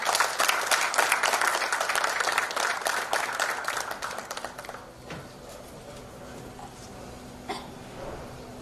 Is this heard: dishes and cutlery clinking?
no